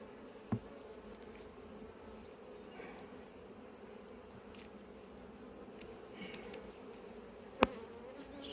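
Honey bees hum steadily in an open hive, their buzzing a constant low drone with a couple of sharp clicks or knocks from handling the frames.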